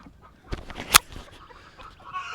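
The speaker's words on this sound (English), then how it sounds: "so all the chickens don't come out" Farm chickens clucking after hurricane damage, a single sharp cluck standing out near the middle among faint scattered fowl sounds and background noise.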